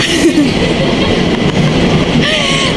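A train rolls along the rails with a loud, steady rumble and faint clatter heard from inside the carriage, with brief wheel squeals near the end.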